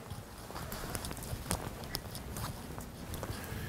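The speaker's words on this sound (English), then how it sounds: "So I will make my horse, Bob, keep coming." A horse walks in a riding arena, its hooves giving a faint, steady clip-clop rhythm over a constant background hiss.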